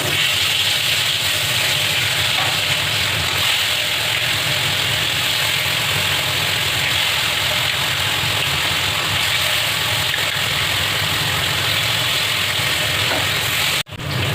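Fish frying in hot mustard oil in a heated wok, a steady loud hiss and sizzle that holds unbroken throughout, close up with no talking.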